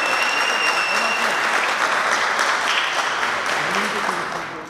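Audience applause fills a public hearing about residents' complaints on local bus transport in Canoas, a dense, steady clapping crowd with faint voices underneath, tapering slightly at the end.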